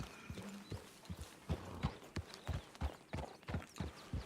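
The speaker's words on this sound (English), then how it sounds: "Easy Benny horse." Horse hooves clip-clopping at a walking pace, a steady series of sharp, close knocks with a faint rustle between steps and no voices.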